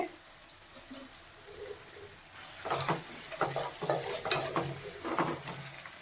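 Onions frying with a little salt in a pan for biryani, with a faint background sizzle and a few spoon scrapes and stirring clatters in the second half, moderately quiet and without talk.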